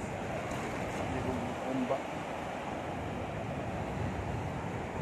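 Rough, churning sea waves wash against the shore at a tourist beach during net fishing, a steady broad roar mixed with wind noise, with faint voices in the background.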